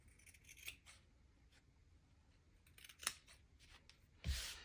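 Scissors trimming excess material from a Dollar Tree Jenga block trellis project, with a few quiet, close snips spaced irregularly and faint handling noise between them.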